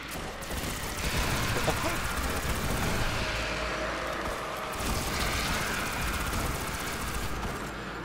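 Rifle fire in Destiny 2 against a pack of thrall, with a steady, somewhat muffled barrage of shots blending into dense combat noise throughout.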